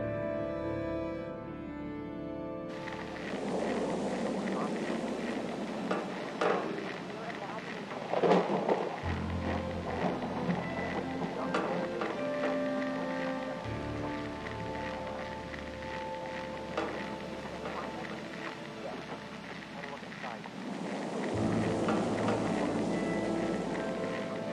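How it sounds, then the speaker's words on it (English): Thunder in a stormy recording with rain: low, sustained rumbling rolls through most of the span, rising and falling at moderate loudness, with a steady rain-like hiss above it. "looks like a great sample for thunder somewhere here"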